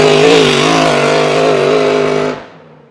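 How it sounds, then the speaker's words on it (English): A GP class racing powerboat at practice accelerating hard, its transmission, spinning prop shaft and propeller giving a loud, close, steady high-pitched engine drone that holds for a couple of seconds and then cuts off sharply. "You can hear the transmission and that prop shaft rotation and the propeller"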